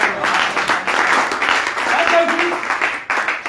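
A church congregation claps for the Lord during a Sunday service, a dense continuous wash of applause mixed with voices and cheering.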